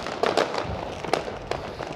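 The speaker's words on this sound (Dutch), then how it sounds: "We nu zien daar gewoon alleen maar vuurwerk" New Year's fireworks burst and crackle over Rotterdam in a string of scattered, fairly distant bangs against a constant background rumble of celebration.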